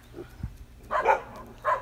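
A pack of dogs kept at a house by farm fields in Korea barks in two short bursts at moderate distance, over low background noise.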